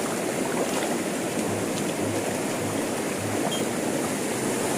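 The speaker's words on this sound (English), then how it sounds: "We came down from the top of the reservoir to check out the flow of water across the road." Reservoir overflow water rushing across a road, a loud, steady, roaring torrent of churning water close by, continuous with no pauses.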